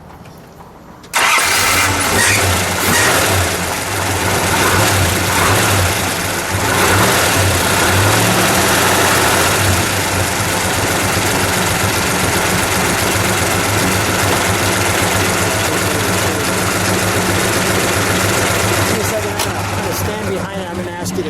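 After a brief quiet moment, a 1966 Dodge Charger 426 Hemi V8 cranks and fires, then settles into a loud, rumbling idle close by that runs for the rest of the clip.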